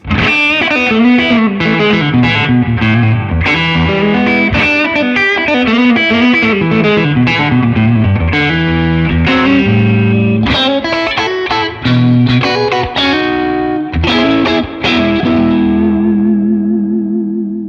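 A Fender Stratocaster electric guitar on the neck pickup with tone fully open plays a lively phrase with a warm, rounded tone and some effects, loud and close, ending on a ringing chord.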